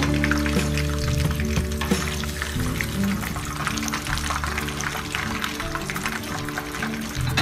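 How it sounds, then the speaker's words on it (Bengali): Beef jali kabab fries in hot oil, a steady dense sizzle and bubbling hiss running evenly throughout with no voices. "এভাবে এক এক করে আমি সবগুলো কাবাব ভেজে ফেলবো"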